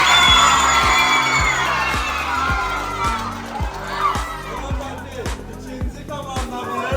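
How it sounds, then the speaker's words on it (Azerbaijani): A quiz-competition audience applauds and cheers for the first team, a dense burst of clapping and shouts that gradually thins out, with a voice speaking over the crowd. "Birinci komandamız, alqışlayırıq"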